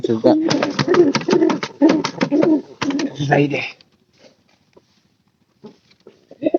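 Pigeons nesting with their chicks give a close run of throaty coos for several seconds, then the sound drops to near quiet with only faint scattered rustles.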